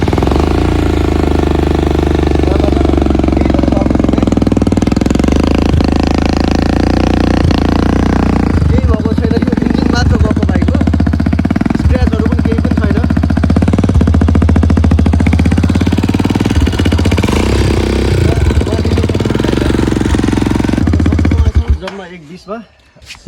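A second-hand dirt bike for sale starts and runs with a loud, close, chugging engine that revs and rises and falls for about twenty seconds before cutting off, with someone talking over it.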